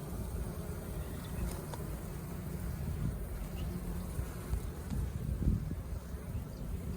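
Honeybees buzzing at an open spring hive, a faint low steady hum with soft rustling throughout, no voices.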